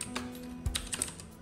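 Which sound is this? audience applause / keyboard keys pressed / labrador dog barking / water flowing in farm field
keyboard keys pressed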